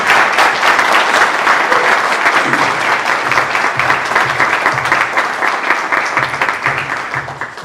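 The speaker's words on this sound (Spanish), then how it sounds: "Yo solicito un aplauso para la licenciada Cesarina Aquino" An audience at a talk on renewable energy applauds loudly, with sustained, dense clapping from many hands that holds steady, then gradually tapers near the end.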